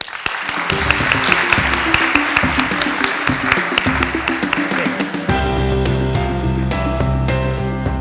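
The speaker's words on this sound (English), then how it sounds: "a big round of applause welcoming Professor Michael Cusimano" An audience at a business conference keynote in Bangkok applauds over upbeat walk-on music for about five seconds; the clapping then drops away, leaving the loud music playing alone.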